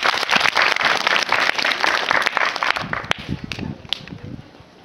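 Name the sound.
children applauding correct quiz answer at school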